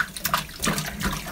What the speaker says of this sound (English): Quit splashing me.